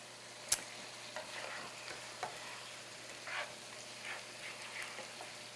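Shrimp and grits being stirred in a pan, a soft low sizzle with a sharp utensil knock at the start and gentle scraping clinks afterward, fairly quiet and without voices.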